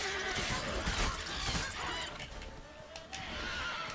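Horse neighing in The Witcher 3: Wild Hunt, a loud whinny up front, with busy game noise of hooves and clatter around it.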